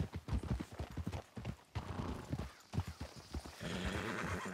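Horses in Red Dead Redemption 2 clip-clop in a steady trotting rhythm and let out a loud whinny, close by, with no talk over them.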